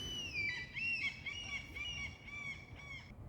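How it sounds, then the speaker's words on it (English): Geese honk repeatedly outdoors, a run of nasal calls at middle distance over a low background rumble. "I'm sorry about the birds."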